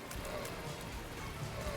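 A water current rushes through the sewer-like Dross floor of The Binding of Isaac, a dense, even rain-like wash of flowing water that continues throughout.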